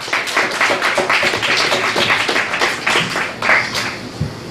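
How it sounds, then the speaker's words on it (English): Comedy-club audience at a Richmond, Virginia cafe comedy night applauds comedian Clay, a dense burst of many hands clapping steadily for several seconds before tapering off. "Give Clay a round of applause"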